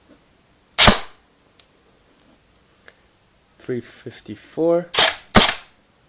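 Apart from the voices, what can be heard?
Cybergun M249 SAW Para airsoft gun firing through chronograph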